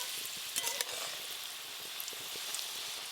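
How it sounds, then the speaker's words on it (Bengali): Shokto puri pitha fry in warm oil, giving a steady, fairly quiet sizzle with a few sharper pops scattered throughout and no talking. "এই শক্তপুরি পিঠা হালকা গরম তেলে ভাজতে হবে"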